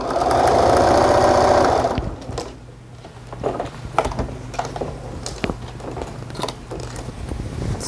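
A sewing machine stitches a seam flat on a coat in a short, loud whirring run at the start, then falls to quieter handling clicks and fabric rustles with brief pauses.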